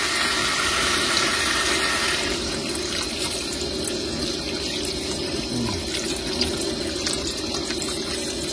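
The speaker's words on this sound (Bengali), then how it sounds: "এবার জল দিয়ে দেবো।" Water poured into a cooking pot over a spiced mixture, a steady close splashing and gushing that continues throughout, with no talk.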